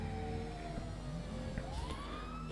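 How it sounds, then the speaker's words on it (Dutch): An emergency vehicle siren wails in a video game during a farm raid, a steady rising and falling tone over engine rumble, moderately loud and continuous. "We zetten de sirene aan, want we willen heel snel daar zijn."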